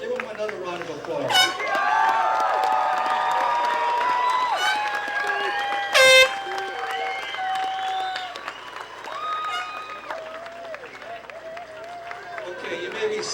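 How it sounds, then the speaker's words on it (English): A university commencement crowd breaks into sustained applause and cheering, a dense roar of clapping mixed with whistle-like tones and crowd voices, rising and falling over several seconds. "Give them another round of applause."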